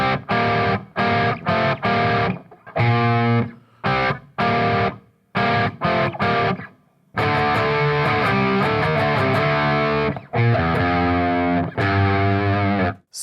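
Choppy, stop-start distorted electric guitar riff from a song, played on a white guitar from tablature, loud bursts separated by short gaps before a longer sustained stretch.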